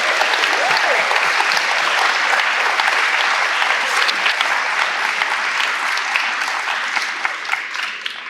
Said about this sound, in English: Please join me in giving this class of 2023 another round of applause.